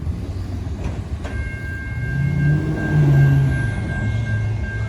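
A long freight train rumbles past close by on a street-running track, its heavy low roar building and holding, with a faint steady tone riding above it.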